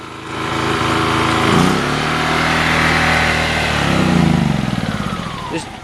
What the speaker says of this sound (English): This generator is probably not as quiet as the Honda EUs, but honestly, it's half the price.